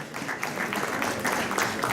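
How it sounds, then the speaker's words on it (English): Audience applause at a Latin American chamber of commerce gala in Essex County, a steady wash of clapping from a crowd for about two seconds, moderately loud with no talk over it. "Big round of applause."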